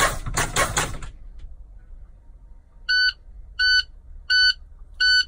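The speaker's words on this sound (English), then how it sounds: "buzzer signal and red light should be on" A burst of hissing air, then silence, followed by four evenly spaced electronic buzzer beeps, clear and steady, from a truck's low air pressure warning buzzer during an in-cab brake check.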